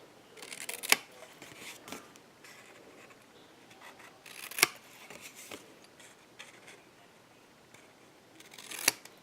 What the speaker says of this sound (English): I'm just going to cut it where it intersects right here.